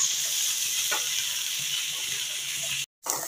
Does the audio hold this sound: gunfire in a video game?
no